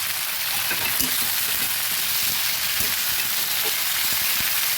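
Young jackfruit chunks frying in a pan, a steady broadband sizzle and hiss throughout with a few faint stirring clicks underneath.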